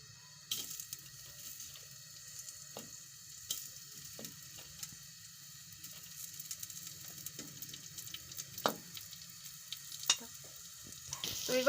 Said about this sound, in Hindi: इसमें 4 टेबल स्पून बस मैंने तकरीबन डाले हैं ऑयल के, और इसमें प्याज को मैंने डाल दिया है